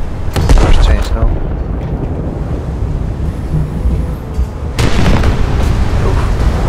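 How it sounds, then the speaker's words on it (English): Loud booming blasts from an ammunition explosion in the War Thunder video game, a heavy burst near the start and another around the five-second mark, with rumbling noise sustained between them. "there was an ammo explosion"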